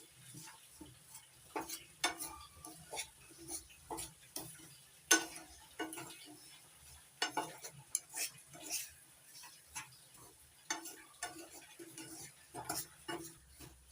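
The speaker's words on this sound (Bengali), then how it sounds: "লবণটা মিশিয়ে নিচ্ছি সুজির সঙ্গে" A spoon stirs salt into fried semolina in a pan for ripe mango halwa, making soft, irregular scraping ticks and clinks close by, fairly quiet, with no talking.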